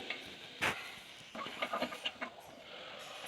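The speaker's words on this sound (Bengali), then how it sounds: "এইভাবে সমস্ত সবজিগুলো কিন্তু ভালো করে ভেজে নিতে হবে।" Vegetables are fried and stirred in a pan, giving a faint sizzle with a sharp scrape and a few soft clinks of the spoon against the pan.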